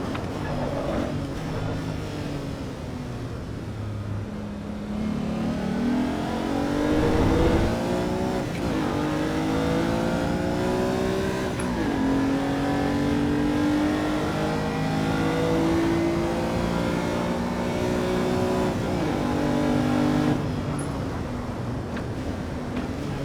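A race car engine in Assetto Corsa EVO revs continuously, its pitch climbing and dropping through gear changes on a circuit. The engine drone is loud and sustained throughout, with no voices.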